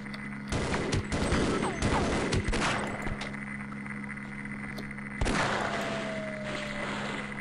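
Gunfire in Half-Life, with several sharp shots clustered early on and another loud blast later, set against a steady humming game background.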